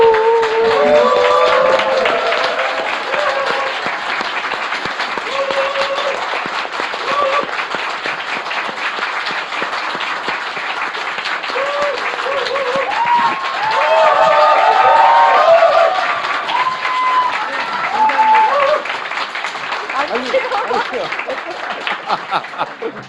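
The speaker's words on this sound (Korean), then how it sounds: "게스트가 나올 때 기립박수를 한 건 처음이에요" A studio audience gives a long standing ovation as a guest, a South Korean National Assembly member, walks on. Steady crowd clapping fills the stretch, with laughter and chatter mixed in and voices under it.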